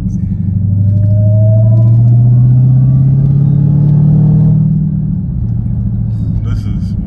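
A supercharged 2019 Dodge Charger Hellcat fitted with a JLT cold air intake revs loudly up close, its deep rumble climbing in pitch with a rising supercharger whine, then settling back to idle.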